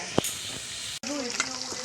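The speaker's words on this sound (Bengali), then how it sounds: "এখন লাল শাক বানাচ্ছি ভাজা হচ্ছে" Steady hiss of red amaranth leaves frying in a pan, with a brief thump and a short break partway through.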